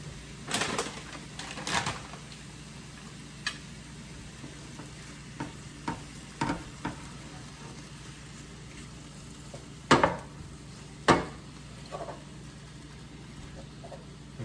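Beef stir-frying in a pan, a steady low sizzle broken by intermittent spoon scrapes and knocks as the meat is broken up, a couple of louder clanks near the end.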